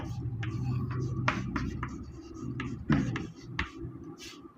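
A pen scratches and taps across paper while writing by hand during a maths lesson, close and fairly soft, in short uneven strokes over a low room murmur.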